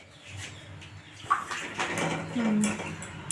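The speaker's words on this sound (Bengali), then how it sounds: "আমি কড়াতে ঢেলে নিই" Cooked potato curry is tipped from a pressure cooker into a wok, giving soft sloshing and scraping with a few clinks of metal, close and moderately quiet in a kitchen.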